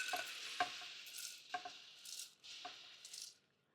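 Roasted pumpkin seeds rattle and patter into a bowl in a few short, close bursts, their dry clicks and light scraping separated by brief pauses.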